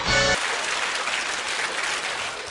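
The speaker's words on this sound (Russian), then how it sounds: "Вот эти аплодисменты вас провожают" Audience applause sending people off, a thick continuous clatter of many hands close by that follows a brief tonal burst at the very start.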